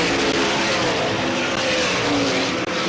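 Race cars roar around Selinsgrove Speedway, a loud, continuous engine drone filling the scene as the field circles close by without a break.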